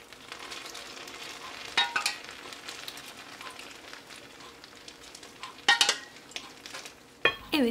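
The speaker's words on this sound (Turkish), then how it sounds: "siz de duyduğunuz gibi şerbetimiz tatlımızla buluştu arkadaşlar, baklavamızla" Syrup poured over hot carrot-slice baklava fresh from the oven, a soft steady crackling sizzle with a few louder metallic clinks of a ladle or tray.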